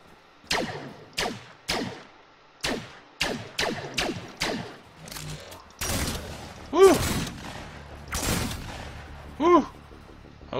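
Single rifle shots in the Fragmented survival video game ring out one by one at an uneven pace, loud and close, each ending in a short decay, with a couple of sharper metallic bursts later on.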